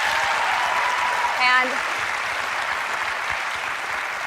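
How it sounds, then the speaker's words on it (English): A live studio audience claps steadily in broad, continuous applause through the whole stretch, with a brief spoken word rising over it near the middle. "They're clapping her, aren't they, really?"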